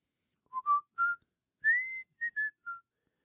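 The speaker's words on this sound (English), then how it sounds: "let's do a whistle intro" Someone whistles a short intro tune of about seven clear, bright notes in a quick rising-and-falling melody, close and solo against a silent background.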